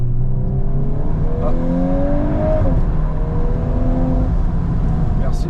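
An Audi R8 sports car accelerates on winding mountain roads, its engine note climbing steadily as it revs, heard from inside with a brief spoken exclamation.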